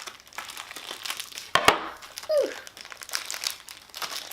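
Crinkly plastic packaging of a new Num Noms toy being torn open by hand, a run of close crackling and rustling with a couple of sharp snaps and a brief squeak, no talking over it.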